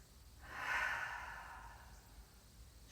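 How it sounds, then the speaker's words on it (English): A single soft, slow exhale of breath during a shoulder-loosening exercise, close and quiet, rising then fading over about two seconds with no talking. "take a breath in, breathe out"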